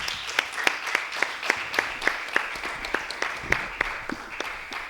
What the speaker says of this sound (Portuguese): Para o aplauso de vocês.